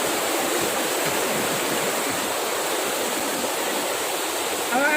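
Bolao Falls in Talakag, Bukidnon roars steadily as a close, loud, continuous wash of rushing water with no pauses.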